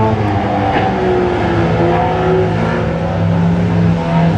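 Race cars roar around ACT Speedway under lights, with a loud, continuous engine drone whose pitch rises and falls as the pack laps close by.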